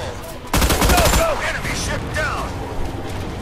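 A rapid burst of carbine fire in the Battleship video game rattles out loud and close for under a second, then gives way to a busy backdrop of game effects and voices.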